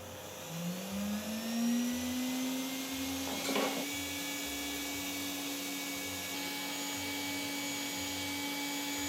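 A PCB motor spins up a wheel to about 22,000 RPM, giving a rising whine that settles into a steady high-pitched tone with a brief rattle midway, continuous and close with no talking.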